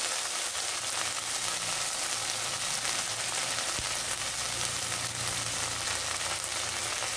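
Ginger paste hits fried onions in a hot pan for a Bengali bata fish and potato curry, giving a steady, close sizzle that runs unbroken throughout with no talking.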